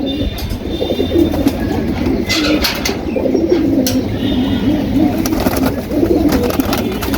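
Pigeons coo steadily and softly at close range, their low murmuring calls overlapping continuously against faint background noise.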